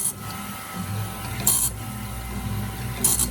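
A BMS 250 sharpener's grinding wheel runs under oil against a blade, a close steady mechanical whir broken by two brief bright hissing scrapes as the wheel hits the weld joint.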